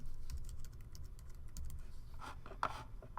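Quiet, steady typing on a computer keyboard, with rapid key taps clicking continuously and close by, with no voices.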